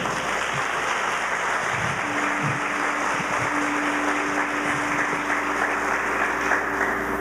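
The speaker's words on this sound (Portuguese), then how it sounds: "Aplauda o Senhor." A church congregation applauds in sustained, steady clapping that fills the room at moderate volume, with a low hum running underneath.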